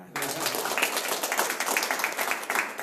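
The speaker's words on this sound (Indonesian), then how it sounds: "Tepuk tangan." Applause from a small seminar audience at a community mentoring session in Surabaya, a dense patter of hand claps starting abruptly and holding steady at close range for a few seconds.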